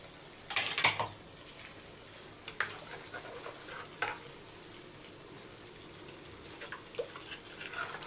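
A spoon scrapes and knocks against a pot of fish curry in a few separate strokes, with faint sizzling and bubbling underneath.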